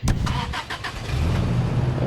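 A truck engine in a video game cranks with a few quick starter bursts, then catches and settles into a steady, close, low rumble.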